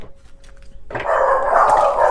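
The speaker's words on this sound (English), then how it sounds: "They're in the living room, growling and barking at the window." Several dogs inside a living room bark and growl loudly at a window. A short low rumble comes first, then a burst of sustained, overlapping barking close by.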